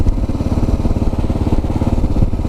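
A 2022 Kawasaki KLR650 single-cylinder motorcycle rides along with a loud, close, pulsing thump of engine beats and a steady rumble, unbroken by talk.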